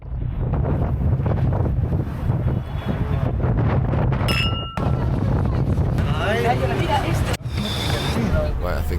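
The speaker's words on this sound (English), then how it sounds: "It's really windy." Strong gusting wind roars across the microphone at the top of the Eiffel Tower, loud and continuous, with someone talking over it and brief clicks and tones in between.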